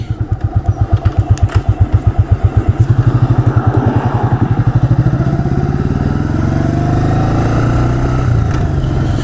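A 1985 Yamaha Virago motorcycle on the road near East Hampton, New York: a loud, close engine with a fast, even thumping pulse that smooths into a steady drone as it accelerates.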